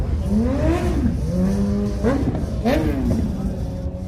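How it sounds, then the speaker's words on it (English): Motorcycles rev and rumble past on the busy main street of Lake George, engine pitch rising and falling in waves, with a person speaking over the steady traffic noise. "If you just look up and down the main drag of Lake George, motorcycle after motorcycle"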